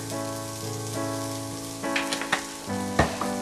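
Olive oil sizzling in a pan for a meatloaf sandwich, a steady hiss with a few sharper crackles and pops near the end, close and fairly loud.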